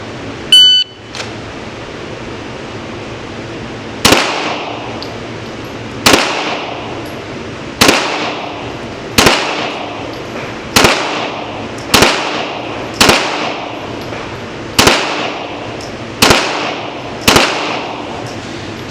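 Pistol shots fired strong hand only during a Defoor hat qualification drill, ten sharp, loud reports spaced roughly one to two seconds apart, each ringing out briefly, after a short electronic beep at the start.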